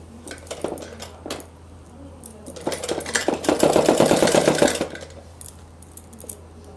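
A sewing machine stitches piping onto a suit, giving a close, busy mechanical whir that builds into a sustained run of rapid stitching with scattered handling clicks around it.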